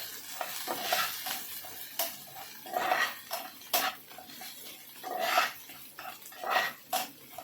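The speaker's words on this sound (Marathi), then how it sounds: "मिरची जरा भाजून घ्यायची आहे तुपात" Green chillies frying in ghee for sabudana khichdi, stirred with a spoon in short rhythmic scraping bursts over a soft sizzle, with metal clinks against the pan.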